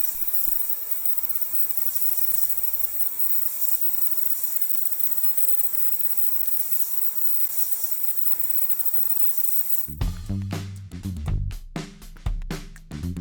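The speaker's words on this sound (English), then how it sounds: "This ultrasonic cleaner is quite noisy." A noisy ultrasonic cleaner filled with fluid drones with a steady, bright electrical hum for about ten seconds, then gives way to louder clattering and knocking near the end.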